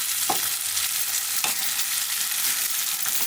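Gobindobhog rice frying for khichuri, stirred continuously in a pan, giving a soft steady sizzle broken by a few scraping strokes.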